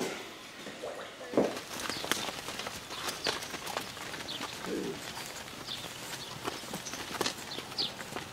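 Cows are let out on a French dairy farm, their hooves clopping irregularly on hard ground at a moderate distance, mixed with birds cooing and chirping in the background.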